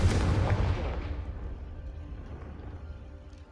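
Confringo fire spell blast in the video game Hogwarts Legacy, a single booming explosive burst that rumbles and fades away over a few seconds.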